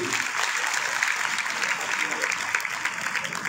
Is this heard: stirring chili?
no